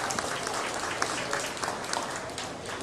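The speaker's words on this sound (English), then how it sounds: "of applause to these junior exhibitors" At a beef cattle showmanship event, the crowd claps for junior exhibitors in a steady, moderately loud round of applause lasting about three seconds.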